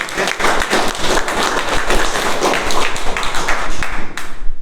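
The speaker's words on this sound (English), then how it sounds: "So can we have a big round of applause for all?" A room of club members at a public-speaking meeting clapping together, a loud, close and continuous patter of many hands that holds steady and then thins out near the end.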